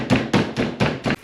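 A raw chicken breast folded inside cling film is beaten flat on a kitchen surface, five firm, evenly spaced thumps close by, each a dull padded slap with no talking between blows.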